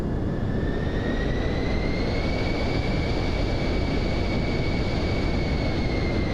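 The twin jet engines of a Pilatus PC-24 in Microsoft Flight Simulator 2024 spool up during a run-up before takeoff, giving a loud, steady roar with a rising turbine whine that levels off and holds, with no talking.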